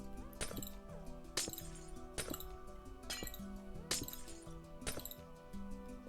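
Glass blocks break in Minecraft: six crisp, tinkling shatters at a steady pace, each one short and bright, quiet and close, over a soft musical backdrop.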